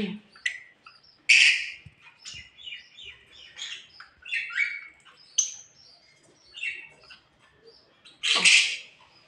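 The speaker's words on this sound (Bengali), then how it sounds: "এই যে এখানে আছে দুটি পাখি" Small birds chirping and tweeting in short, irregular bursts, with a couple of louder squawky calls standing out near the end.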